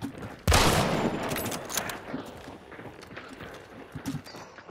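A single loud, close gunshot cracks out in the video game Hunt: Showdown, followed by a rumbling echoing tail and scattered softer thuds and rattles.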